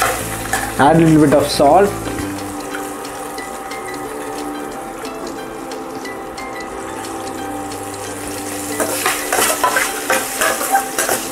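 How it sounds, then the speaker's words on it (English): Food frying and being stirred in a pan makes a loud, steady sizzle with scraping stirs throughout; a voice speaks briefly at the start, and a low hum runs under the sizzle later. "fry it nicely"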